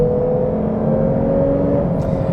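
A 2021 Lexus IS350 F-Sport pulls harder on the highway, its engine drone steady and close under loud tire and wind roar inside the cabin, with a faint rising tone as it speeds up.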